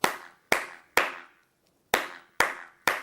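Sharp, rhythmic hand claps done as a health exercise: six loud, close single claps at a steady beat with one skipped beat in the middle, each ringing briefly, with no talk.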